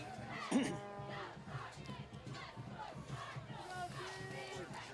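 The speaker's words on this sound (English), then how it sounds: "Both teams are out there cheering." Cheerleaders and a crowd cheer at a high school football game, Dumont at Westwood, outdoors. A distant mass of voices carries sustained, chant-like rhythmic shouts, with one sharp higher yell near the start, all held at a moderate, steady level.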